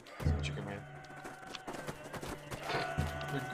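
Chicken units clucking and squawking in the physics battle game Totally Accurate Battle Simulator, several short bursts of fowl calls over game noise, with a person talking and laughing.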